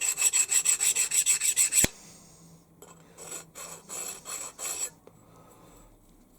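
A hand file deburrs the top edges of a machined part, giving close, rhythmic rasping strokes: a fast even run of about ten strokes, a pause, then a slower set of five or six.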